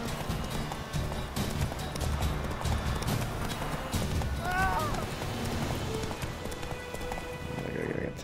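Hooves drum steadily as a horse gallops in the fantasy video game The Witcher 3. A brief whinny rises midway, and a player's voice talks over the running rhythm.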